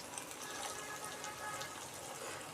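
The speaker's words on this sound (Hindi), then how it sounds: "अब इसके अंदर हम 1 गिलास पानी डालेंगे" A glass of water poured into a cooking pot of sautéed potatoes and keema while making keema matar aloo, a steady close splashing gush lasting a few seconds with no talk.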